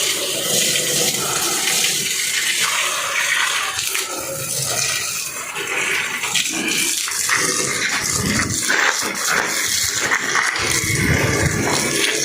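Water flowing from a water pump drawing from a tank, a loud, continuous rushing and splashing flow that surges and shifts in texture over about twelve seconds, with no speech.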